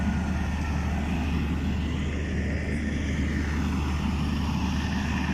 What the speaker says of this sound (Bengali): 24 আওয়ার্স এই জেনারেটরটা চলে।